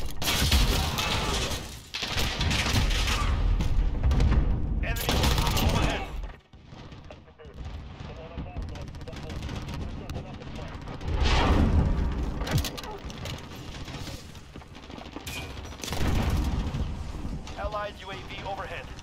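Heavy bursts of gunfire and explosive blasts in the Call of Duty Modern Warfare beta come in repeated loud waves across a noisy, rumbling battlefield, with voices talking in between.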